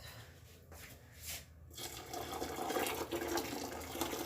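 Warm water poured into a pot of Moroccan harira soup, a steady splashing, gurgling stream that grows fuller and louder after a quiet start and keeps running close by.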